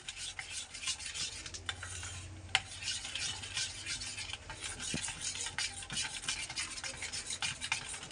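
Baking powder being stirred into boondi batter, a steady soft scraping and rubbing of a spoon through thick batter in a bowl, continuous and close over about eight seconds with one brief clink.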